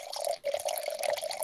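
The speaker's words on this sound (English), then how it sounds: "We have some live pouring going on here." Wine streams into a glass at close range in a steady trickling pour, with a brief break partway through before the flow resumes. No voices.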